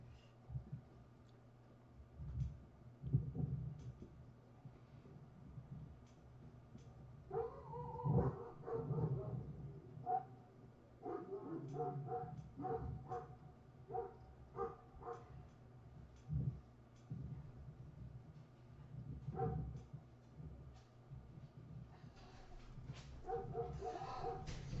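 Dogs at play, with intermittent whimpers, yips and soft barks scattered across the clip, fairly quiet and close.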